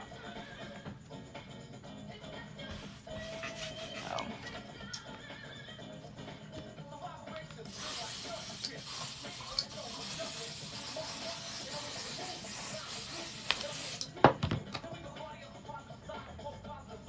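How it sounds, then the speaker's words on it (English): An ODIF 505 spray adhesive can, nearly empty, sprays in one steady, loud hiss lasting about six seconds, with quieter handling noise before it and a sharp click just after. "this brand adhesive, for some reason, when you get towards the bottom of it, tends to not spray as easily."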